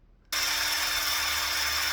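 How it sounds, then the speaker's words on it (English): A brass bar being sanded with a power tool, a steady loud abrasive whir that starts abruptly after a brief quiet moment and runs continuously to the end. "More sanding."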